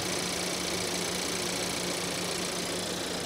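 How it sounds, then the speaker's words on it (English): A transverse-mounted small SUV engine idling steadily with a constant mechanical clatter and low hum, close up and continuous, no voices. "There's a lot of clatter, but it's pretty smooth."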